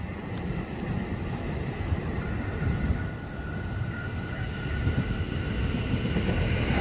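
KRL Commuter Line electric train at Jayakarta station in Jakarta, a steady, loud rumble and rail roar of cars rolling through, with wind buffeting the microphone and no talk.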